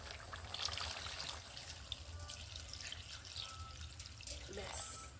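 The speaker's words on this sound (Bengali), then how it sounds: "আমি এখন জল দিয়ে দিচ্ছি।" Water is poured into a pot of duck curry with boiled potatoes, a quiet continuous trickle and splash, with a soft voice in the background.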